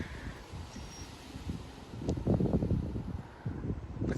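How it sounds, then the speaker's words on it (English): Gusty 40 mph wind blows around a house in Frisco, Texas, a rough, fluttering roar against the microphone that builds in strength midway, with rustling and no speech. "40-mile-an-hour winds can knock off small limbs, damage some outdoor items"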